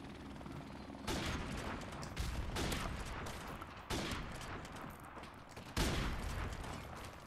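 Shooter video game gunfire: several loud bursts of rapid shots in a row, with sharp onsets about every second or two and dense crackle between them. No voices are heard.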